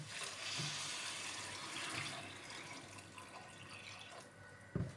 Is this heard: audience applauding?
no